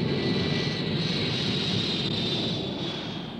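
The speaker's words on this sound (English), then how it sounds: "Looking Glass missions are flown from OFFUTT Air Force Base by EC-135C jet stratotankers." An EC-135C jet stratotanker, flown as an airborne command post from Offutt Air Force Base, makes a steady, loud engine roar with a thin high whine that holds throughout and eases slightly at the end.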